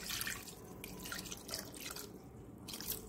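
Water is poured steadily into a pot of mutton soup, a continuous bright splashing and trickling stream lasting several seconds, close and moderately loud with no voices.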